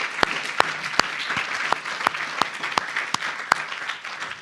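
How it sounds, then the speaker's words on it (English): Sparse, scattered hand claps from a summit audience applauding three panelists, individual claps standing out over a soft continuous wash of clapping at moderate distance. "I want a round of applause for all three of them."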